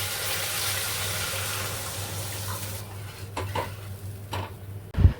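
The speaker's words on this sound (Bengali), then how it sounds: "ওদিকে গ্রেভিটা ফুটছে" Gravy with mutton stock simmering and bubbling in a pan, a steady soft hiss that quiets partway through, with a few light clinks and a knock near the end.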